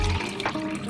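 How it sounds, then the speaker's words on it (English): Water splashing from a tap into a shaker bottle for mixing a wild berry Bio Endure BCAA supplement, a short, close, continuous pour. "Mix this up, just get some of this water in here."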